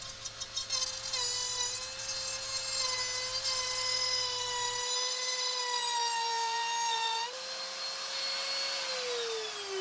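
An electric trimmer router fitted with an attachment-style round-rod jig shapes a wooden rod, giving a steady, loud, whining buzz whose pitch dips partway through and sinks again at the end.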